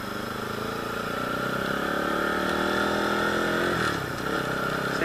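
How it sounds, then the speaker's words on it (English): Motorcycle engine running in first gear, a continuous buzzing mid-pitched drone that rises steadily in pitch as it accelerates, then drops sharply as the throttle is released near the end, close and steady. "So, ngayon, pandarin na natin yung ating motor. First gear muna tayo."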